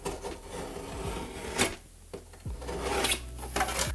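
A utility knife scrapes and slices bevels into the edge of plasterboard around a roof window, with short rasping strokes, a couple of sharp cuts and brief pauses, close up and without talk.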